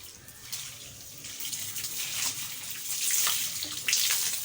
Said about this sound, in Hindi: कल जो इमरान भाई ने ये दीवार बनाई थी वो मेन लाइन से जो पाइप लाया था, तो अभी उसे पानी दे रहे हैं।